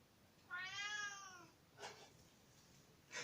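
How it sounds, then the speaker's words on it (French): A domestic cat gives one drawn-out, whiny meow close by in a quiet room, followed by a couple of faint short rustles. "j'avais oublié que mon chat était là"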